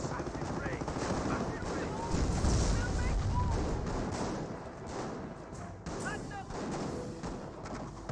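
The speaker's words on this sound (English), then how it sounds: "Panther taking some shots there" In a Company of Heroes battle, a Panther tank and surrounding units trade fire, with a dense mix of gunshots, machine-gun rattle and booming impacts running throughout beneath steady talking.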